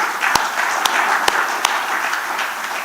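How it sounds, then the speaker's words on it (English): Applause from the audience at a heads of state summit: a steady, dense patter of clapping fills the hall, with a few sharp, louder claps standing out. "I think we need to give ourselves a round of applause on that"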